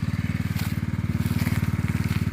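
A Honda GX three-inch engine water pump runs close by on a sugarcane drip-irrigation setup, its loud, steady, fast-pulsing engine chug filling the short stretch with no talking.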